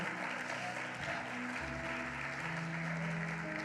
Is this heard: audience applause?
yes